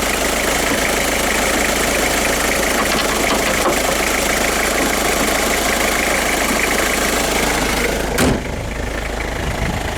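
Diesel engine swapped into a 1994 Chevy S10 pickup, heard from inside the cab while driving: a steady, dense drone with a fairly loud, even rumble throughout and one brief knock near the end.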